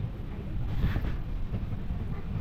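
A moving train from Konkan to Mumbai gives off a steady, low rumble with a constant roar and no pauses, close by and fairly loud throughout.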